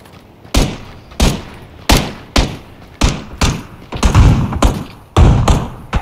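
Rapid bursts of gunfire from PlayerUnknown's Battlegrounds on a military base map, loud and close, with sharp shots landing in uneven clusters and short pauses between volleys.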